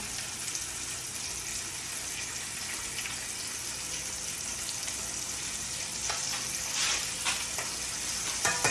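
Short ribs sear in a pan over medium-high heat, giving a steady, close sizzle that runs without a break, with a few sharper crackles and pops near the end.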